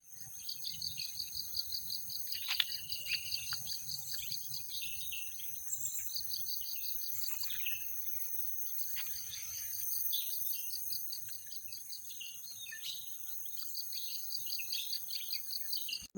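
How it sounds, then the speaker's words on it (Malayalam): Crickets trill in a steady, high, pulsing chorus in the forest near Athirappilly waterfall, with occasional bird chirps and calls scattered throughout, fairly quiet and with no talking. "ചീവീടും കിളികളും മാത്രമേ ഉള്ളൂ"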